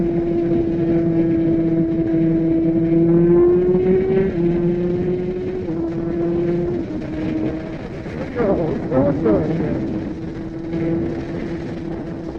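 A Kawasaki ZX10R Gen6 sport bike revs through steady engine pulls, with a sustained tonal drone that drops and rises as quick-shifter gear changes break it up, followed by a burst of rougher revving near the end; close and loud throughout.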